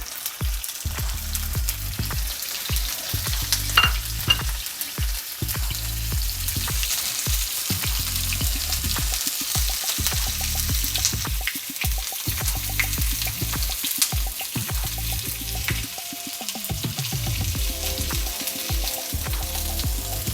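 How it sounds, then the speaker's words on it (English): Sesame-crusted tuna sears in a hot pan, giving a loud, steady sizzle and spatter that runs close and unbroken throughout, with no voices over it. "So we sear it on one side."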